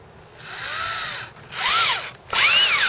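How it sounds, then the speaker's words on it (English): A power drill drives a screw into wood while trainers are built, in three bursts: a short whine that rises and falls, then two louder, higher revving runs close to the mic, with no voices. "If I can use this drill."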